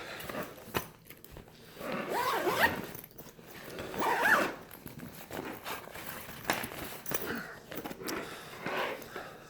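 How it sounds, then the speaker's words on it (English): The main zipper of an Under Armour Coalition backpack is pulled open in a few drawn-out strokes, up close, with faint rustling and handling noises between them. "So that's the main zipper"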